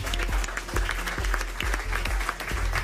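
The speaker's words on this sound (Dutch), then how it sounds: "Pak een applaus voor Roelof Bouwmeester." Audience applauds for Roelof Bouwmeester, sailing coach, at a Frisian sports awards evening. Broad, steady clapping fills the room, with low rhythmic thumps beneath it and no voices.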